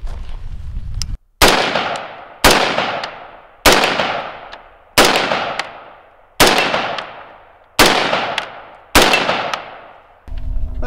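Semi-automatic fire from a 5.45 carbine at an outdoor range with steel targets, seven loud, sharp shots spaced about a second or so apart, each followed by a ringing decay.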